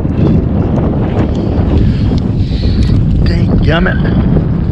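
Strong wind roars and buffets the microphone on a lake during a perch and crappie fishing outing, a loud, constant low rumble with gusty swells; a man briefly mutters under it.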